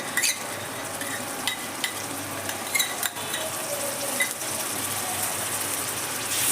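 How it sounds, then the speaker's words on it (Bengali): Ginger, cumin and coriander paste frying with onions for a mutton curry, sizzling steadily throughout with scattered scraping stirs and clinks of a spoon against the pan, close and continuous with no voices. "এটাকে নেড়ে নেবো পেঁয়াজের সঙ্গে ভালো করে"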